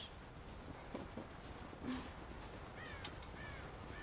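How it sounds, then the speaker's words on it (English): Crows cawing in the Red Dead Redemption video game, a few scattered harsh calls over a steady background ambience, with no talk. "God damn crows!"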